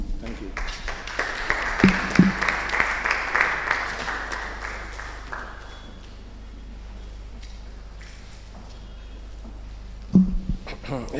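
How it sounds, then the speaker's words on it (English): Audience applause after a lecture on artificial intelligence in healthcare, clapping for the first half that dies away into room quiet, with a voice breaking in near the end. "A round of applause for Prof."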